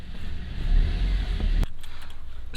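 A Subaru Outback rolls slowly onto a repair frame rack, its engine running in a low steady idle-rev with a brief knock near the middle before the motor note drops to a quieter hum.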